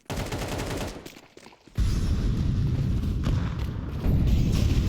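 Gunfire in the video game Counter-Strike during an ESL Impact match: a loud rapid burst of shots, a brief lull, then sustained dense firing and rumbling that continues to the end.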